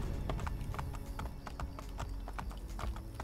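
A horse's hooves clip-clop at a steady trot in Assassin's Creed Brotherhood on PC while riding around the villa, with crisp, evenly spaced hoofbeats, close and moderately quiet, with no voices.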